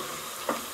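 Tomato paste sizzles and crackles in a pan as it is sautéed and stirred for a classic minestrone soup. A brief, close, steady hiss with one small burst of spattering.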